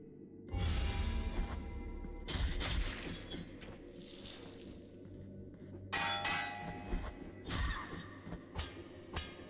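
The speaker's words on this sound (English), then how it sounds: "I have no clue what those bells are doing." Bells in the video game Blasphemous clang in repeated bursts, with ringing metallic strikes and shattering tones that come and go in irregular clusters over a low rumbling backdrop.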